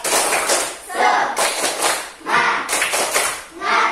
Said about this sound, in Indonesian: kita melakukan tepuk semangat dulu nih supaya kalian semangat